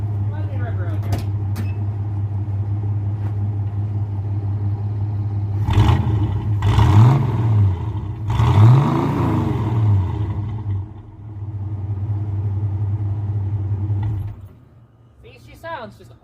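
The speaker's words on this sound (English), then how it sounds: "We'll give her a little bit of a rev here." A Ford Foxbody's 200 inline-six with a new header idles with a steady low drone, then revs in two rising and falling bursts before settling back to idle and cutting off near the end, with a voice speaking over it.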